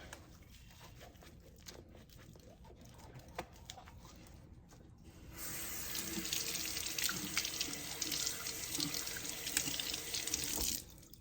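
A kitchen sink tap runs as a soapy sponge is washed under the water, starting with faint drips and handling sounds before a steady strong stream gushes for several seconds and then stops.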